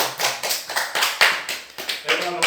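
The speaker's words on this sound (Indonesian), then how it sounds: "tepuk tangan dulu semua." A classroom group claps hands together at a teacher's prompt during an Indonesian equivalency-school Islamic studies lesson, a brief burst of rapid, uneven clapping with a spoken voice mixed in.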